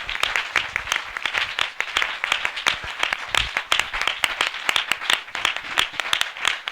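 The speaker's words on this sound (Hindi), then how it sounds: "जोरदार ताली से उनका स्वागत करें" A crowd at a Christian spiritual assembly claps loudly and steadily, a dense, continuous burst of applause welcoming the believers, with no talking.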